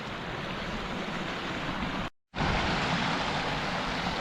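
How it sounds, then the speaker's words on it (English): A small Scottish Highland stream spills over a little waterfall on an abandoned farm, giving a loud, dense, continuous rush of water that drops out completely for a split second mid-clip before returning just as strongly. "It's funny because I'm calling it a river up here, but it's like a little stream, it's like a waterfall."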